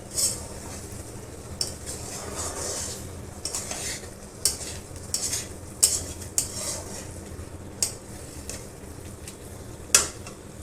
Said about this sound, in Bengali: আলুটা ঢেলে দিয়েছি এবার ঢাকা দিয়ে দেবো